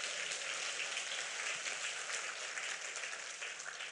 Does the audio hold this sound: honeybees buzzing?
no